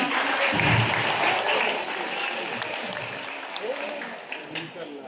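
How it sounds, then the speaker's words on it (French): Audience at a general assembly breaking into sustained applause, a broad wash of clapping from many people that is strongest at the start and slowly thins out, with faint voices mixed underneath. "On l'applaudit."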